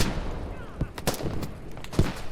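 Gunfire in the Unreal Engine 5 version of the video game Squad on the Al-Basrah map: a few sharp, scattered shots crack out amid a rumbling battlefield din, with no talk over them.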